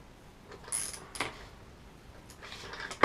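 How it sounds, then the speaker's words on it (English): A ratchet wrench turns on the A-arm of a 1972 Oldsmobile Cutlass being rebuilt, giving faint, sparse metallic clicks and creaks against a quiet workshop background. "I'm going to start turning it here"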